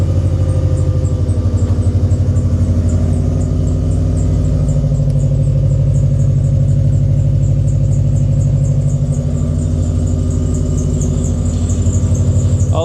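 An older winter-beater car engine idles steadily at close range, a low continuous rumble with a faint high-pitched squeak repeating throughout.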